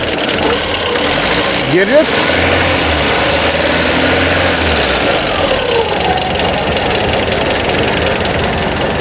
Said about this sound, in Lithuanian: kaip po tiek laiko visai lengvai užsivedė, šiek tiek pašildysim variklį